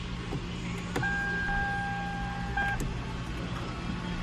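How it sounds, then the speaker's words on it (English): Air suspension compressors switch on in a Prius, adding a steady electric whine with two clear high tones, alongside a constant low hum and a couple of sharp clicks. "And the compressors just turned on."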